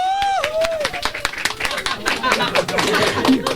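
Loud applause and cheering on a Filipino radio call-in show, dense clapping mixed with whoops and excited crowd chatter, with a brief tonal whistle-like sound at the start.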